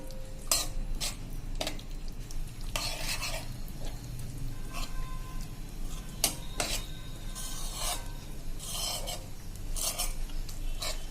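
Vegetables are stirred with mango powder in a pan while cooking a Kathiawadi yogurt-chili curry, a steady close scraping of a spoon against the metal pan in repeated strokes over a soft continuous sizzle.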